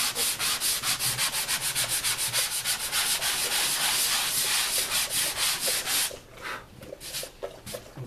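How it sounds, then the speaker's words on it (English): Steady back-and-forth scraping of a block sander over a drywall patch, fast rhythmic strokes for several seconds, then slower, quieter strokes near the end. "we're going to take our block sander, we're going to do a light sanding"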